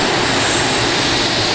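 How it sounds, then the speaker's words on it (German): A loud, steady roar of helicopter turbine engines on a modified tractor-pulling tractor, spun up by an Audi motor, a dense continuous whine and rumble with no pauses, close and powerful. "Der Audi-Motor dreht die Turbinen an"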